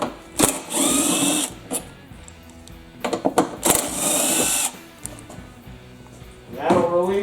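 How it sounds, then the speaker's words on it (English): A 3/8 socket driver whirring in short bursts while removing screws from a Toro CCR 2000 snowblower, loud and close, with rattling metal clicks between bursts. "get yourself a 3/8 socket and take these 2 screws out here"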